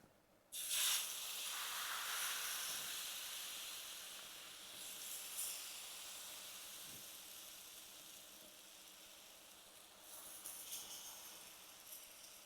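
Spinach batter poured onto a hot griddle over high flame starts a sudden steady hiss and sizzle that stays fairly quiet and close, easing slightly over time with a few brief flare-ups, and no talking.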